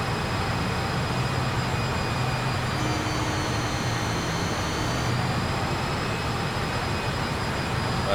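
Fokker F28-4000 jet engines drone steadily as the throttles come back in flight on a Piedmont Airlines airliner, a loud constant roar with a high whine that shifts slightly partway through.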